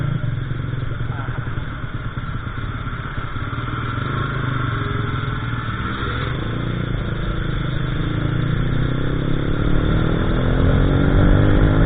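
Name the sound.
motorcycle engine while riding in rain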